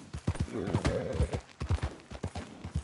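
Hooves clip-clop in a quick, steady gait while a horse is ridden in a PS4 video game, close and fairly loud, with faint game sounds in the background and no talk.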